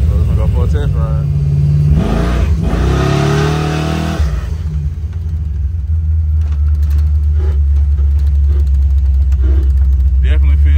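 A 1975 Chevrolet Caprice donk's V8 on a test ride, a loud low rumble that surges in a hard rev then settles back to a heavy idle-like drone, close, with people talking over it.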